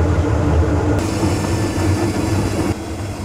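An electric honey extractor spinning organic heather honey runs with a loud, steady mechanical rumble and whir, continuous throughout without speech.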